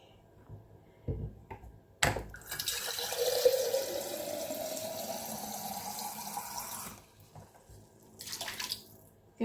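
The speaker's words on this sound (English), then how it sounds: "Now I've got an empty bottle here, and I'm gonna put some water in it." Water runs from a tap into an empty plastic bottle for about five seconds, a close hissing splash that rises in pitch as the bottle fills, with brief handling clatter before and after.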